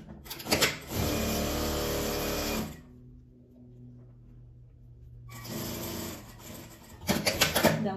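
A sewing machine stitches a double-sided sack bag in two long bursts of steady mechanical running, with a quiet pause between them.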